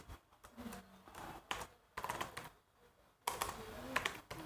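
Typing on a computer keyboard while entering a multi-line Python string, heard as bursts of quick, fairly close key clicks separated by short pauses, with no talking.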